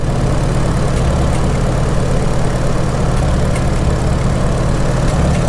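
A 1948 McCormick-Deering W-4 tractor engine runs steadily close by, a loud, continuous low idle with an even rhythmic thrum and no talking.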